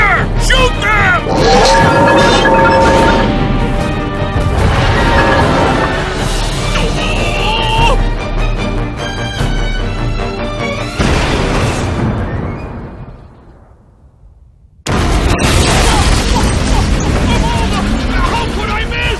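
Gunfire and explosions in the video game Lost Odyssey: loud crashes and booming blasts under dramatic music and shouting voices. The noise dips briefly into near quiet, then a sudden heavy burst returns.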